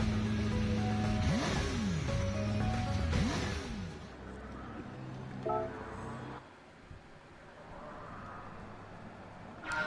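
A McLaren GT3 race car engine in GT Sport revs up and down in a few rising and falling sweeps, then settles into a lower, steadier drone, with a voice talking over it.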